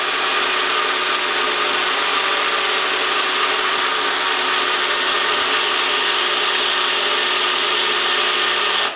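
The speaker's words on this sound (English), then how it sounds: "It's an upside down blender." An upside-down blender mixing a banana smoothie runs at full power, a loud steady whir and grind that holds unbroken for several seconds before cutting off.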